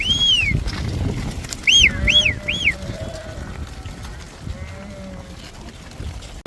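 Sheep and goats bleating in a large flock on a high mountain pasture beside a lake in Kyrgyzstan, several wavering calls overlapping against a steady open-air background of murmuring animals and wind.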